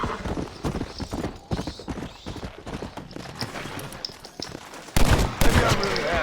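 Horse hooves clip-clop in a fast gallop in the video game Red Dead Redemption Undead Nightmare, mixed with bursts of gunfire and a whinny, loud and close, with a louder flurry near the end.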